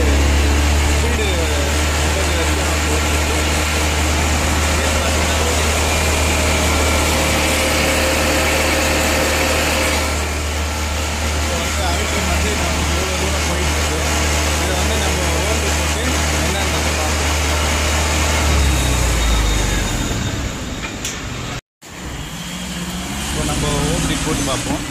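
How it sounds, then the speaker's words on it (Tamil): A vehicle engine runs steadily at idle after being started, a loud continuous low rumble throughout, with a brief dropout near the end, then the idle resumes with no talking. "இப்போ நம்ம வண்டியை ஸ்டார்ட் பண்ணி பார்க்கலாம். ஸ்டார்ட் பண்ணியாச்சு."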